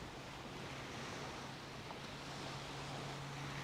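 Ocean waves wash onto a beach in a steady, soft roar mixed with wind noise, continuous and fairly distant, with no talking.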